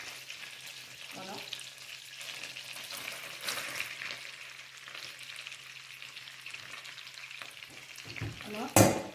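Onions sizzle and crackle steadily in a pan as they fry for a pasta-with-cream dish, with occasional stirring noises and a louder clatter near the end, and no one speaking.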